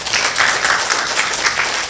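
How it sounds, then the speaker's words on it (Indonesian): Congregation applauding during a church service, a dense, loud wash of many hands clapping together, steady throughout. "Tepuk tangan untuk Tuhan."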